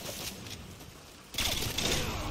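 Bursts of gunfire from a gun in Call of Duty: Modern Warfare 2 multiplayer, loud and rapid, rising after a quieter stretch of game noise.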